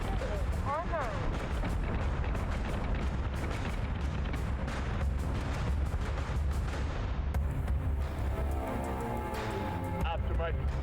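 Ship weapons firing in the space combat game Battlestar Galactica: Deadlock, a continuous, dense barrage of heavy booms and thuds that stays loud and unbroken throughout.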